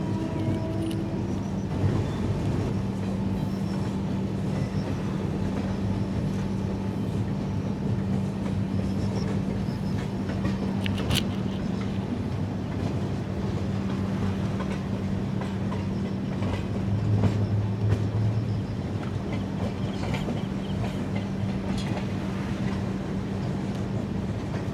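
The Tambaram–Mangaluru Express rumbles past with a steady, heavy roar of wheels and coaches, continuous clatter from start to finish with a deep low drone.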